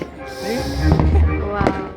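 Fireworks bursting at an outdoor display, a couple of booming blasts with crackle rising over steady background chatter from a nearby crowd.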